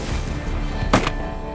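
One sharp shotgun blast cracks out during a cold-weather waterfowl hunt at warm-water springs in Montana, a single loud report standing out from steady outdoor background noise.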